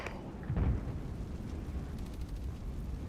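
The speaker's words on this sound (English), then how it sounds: "We'll put artillery barrage there." Artillery barrage explosions in the Regiments video game, a muffled heavy boom early on followed by a continuous low rumbling roar of distant blasts.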